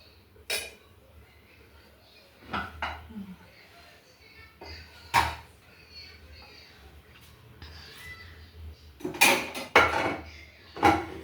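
Food being served at home, likely chicken curry, with scattered clinks and clatters of dishes, lids and utensils, some sharp and close, interspersed between quiet stretches while people talk nearby.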